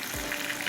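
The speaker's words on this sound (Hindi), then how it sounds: "अब इसको थोड़ा सा भूनेंगे, ठीक है।" Spices, black pepper, cumin and green chilies sizzle in a hot pan for Afghani chicken curry, a brief, steady crackle of frying at close range.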